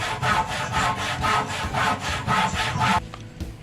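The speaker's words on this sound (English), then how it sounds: "So you have to cut 20 inches of the 6x2." A 2x6 wooden board, meant for a load-bearing wall, being cut with a hand saw: about seven steady, rhythmic back-and-forth strokes, loud and close, before the sawing stops and the sound drops.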